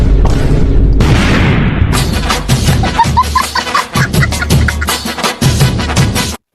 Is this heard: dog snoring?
no